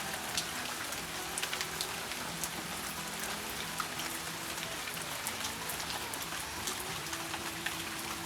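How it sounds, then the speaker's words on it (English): Heavy rain pours steadily onto a self-built truck camper, a dense, even hiss of drops drumming on the roof with no break and no voices. "it's raining pretty hard now"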